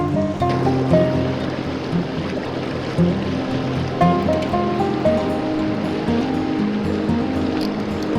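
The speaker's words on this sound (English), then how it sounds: "You can kind of see there's some fast current" Fast river current rushes through a shallow riffle about six inches deep on the Middle Provo River, a continuous close, loud wash of water with no talk.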